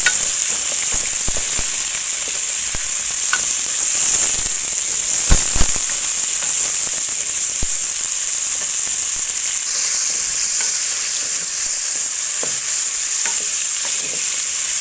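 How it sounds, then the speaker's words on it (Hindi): Half a kilo of chicken fries in a pan for a chicken karela curry, giving a loud, steady sizzle with occasional stirring clicks and scrapes throughout, and no talk. "हमें इसको अच्छी तरह फ्राई करना है।"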